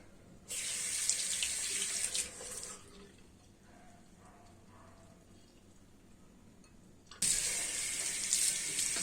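A bathroom tap runs while someone washes their face. The water gushes steadily and fairly close, stops for a quieter stretch, then starts again at full flow. Nobody speaks.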